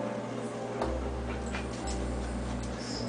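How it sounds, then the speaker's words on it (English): Pet dogs Mace and Sparky in a house make soft whimpers and faint yips over a steady low electrical hum, with a few light clicks and knocks nearby. "Hello, the doggies again."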